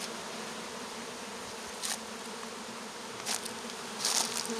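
Honey bees hum in a dense, continuous buzz from a very strong open hive, close and steady throughout, with a few brief clicks of frames being handled.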